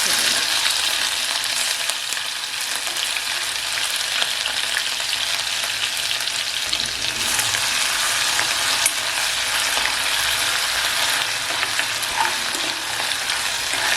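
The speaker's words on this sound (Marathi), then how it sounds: "वाटण एक दोन मिनटं आपल्याला परतून घेतलंय" Ground wet spice paste sautéing in a pan with cumin, for a tender cashew curry, giving a steady, continuous sizzle with soft stirring scrapes throughout, close and even, with no talk.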